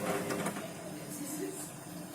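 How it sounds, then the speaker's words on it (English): A Candy Grand Vita O washing machine churns a load of water, giving a steady sloshing, whirring drone at moderate level close by with no speech over it. "This is a really good washing action."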